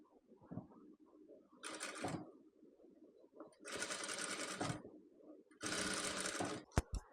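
Sewing machine stitching rayon net fabric for a nighty neckline, running in three separate bursts of fast, even motor whirring and needle clatter, with quiet handling noise and a sharp click in the pauses.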